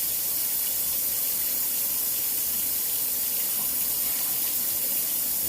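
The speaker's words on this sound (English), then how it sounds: "Cold water goes in there. I'm refilling this bowl." Cool tap water running into a bowl at a kitchen sink, a steady hissing splash held at even loudness for several seconds, close by and alone without talk.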